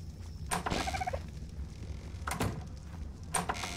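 A bird in the video game ARK: Survival Evolved gives a short gobbling call, followed by several sharp bursts and rustles over a low, steady background.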